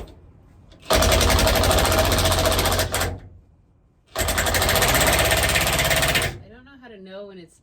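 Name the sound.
rivet nut tool setting a rivet nut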